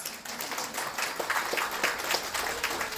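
An audience at a corporate Diwali celebration applauding: steady, dense crowd clapping at moderate volume, sustained for several seconds without speech.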